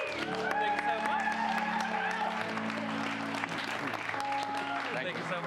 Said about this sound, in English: So ladies and gentlemen, give them a round of applause.